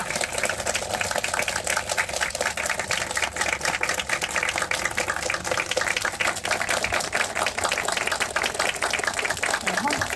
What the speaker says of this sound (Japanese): ゲストの皆様を今一度盛大な拍手でお見送りください